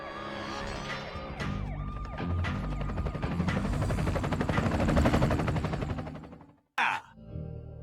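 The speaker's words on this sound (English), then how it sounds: "Donnie, the helicopter." A helicopter in a Teenage Mutant Ninja Turtles 2 video game cutscene, a loud rotor roar that builds and then cuts off abruptly, followed by a brief impact and some low sound.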